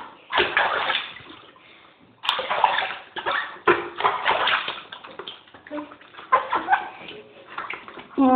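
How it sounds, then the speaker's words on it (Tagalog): A small child splashes and sloshes in bath water, bursts of splashing coming in irregular waves, with voices and child chatter mixed in close by. "Langoy na siya sa tubig."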